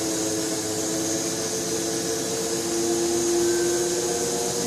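A BMW 840Ci electric conversion drivetrain pump sucks air, a steady loud whirring hum with a sustained tonal drone, heard alone without talk.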